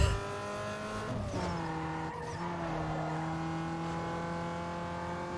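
A race car in Need for Speed Underground 2 roars at high revs throughout, its engine tone climbing and shifting steadily with a brief dip in pitch, loud and continuous with no talk.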